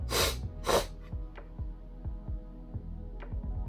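Two sharp, breathy sniffs come close together at the start, then quieter soft ticking and faint noises.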